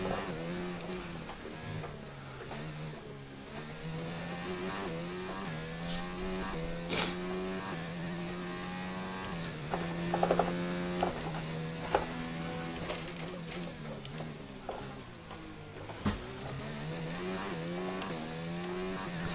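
A Formula 1 car engine in the racing game F1 2019, during practice at the Chinese circuit, screams continuously with rising and falling revs through gear changes, close and loud, with occasional brief clicks and knocks over the drone.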